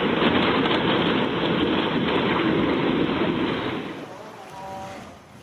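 The flooded Batang Kuranji river in Kampung Koto, Padang, West Sumatra, powerful enough to sweep away houses, roars as a loud, continuous broadband rush that eases slightly near the end.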